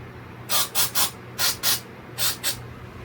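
A spray can blasts short bursts onto a 3D-printed part of a 26-inch Super Mario figure, seven quick hisses grouped in pairs and threes, close and distinct over a low background hum.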